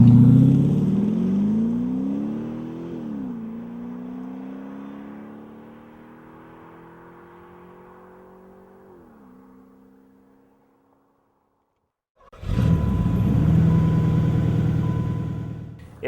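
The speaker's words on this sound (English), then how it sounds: "put what they call a rear muffler bypass on it, which eliminates the last section of the muffler" A 1992 Porsche 928 GTS with a rear muffler bypass exhaust revs loudly up close, its tone falling away to a steady idle before going quiet, then roaring back sharply at the end.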